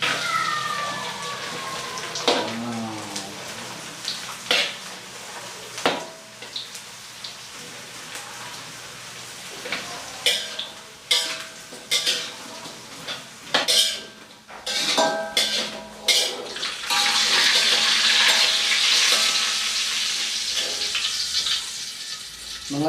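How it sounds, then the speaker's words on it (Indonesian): Wet metal skimmer plunged into hot frying oil while making crispy sego wadang, bursting into a loud, dense sizzle that crackles and spits in bursts, then settles into a steady roar of frying. "Mengapa ketika saya menyemplungkan serok ke minyak terdengar bunyi riuh?"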